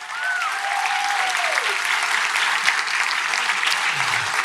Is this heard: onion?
no